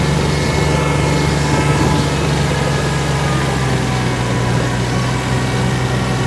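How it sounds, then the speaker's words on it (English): A tractor engine drones steadily while the tractor pushes a scrape blade through snow. The engine sound is loud, close and continuous, with no talk over it. "starting to push my tractor sideways a little bit now on the very last row"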